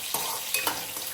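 Carrot, capsicum, curry leaves and green chilli sautéing in a pan, a steady soft sizzle with a few light scrapes of stirring, close and without talk.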